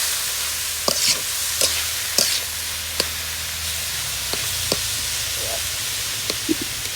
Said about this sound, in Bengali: লাল লাল হয়ে যাওয়ার পরে শাক ঢেলে দেবেন